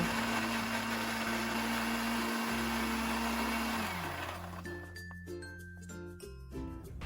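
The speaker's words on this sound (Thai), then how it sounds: "เริ่มจากการปั่นใบเตยก่อนนะคะ" A kitchen blender whirs at high speed while chopping pandan leaves with water, a loud steady motor drone with shifting pitch that stops partway through, followed by light clinks of the glass jar.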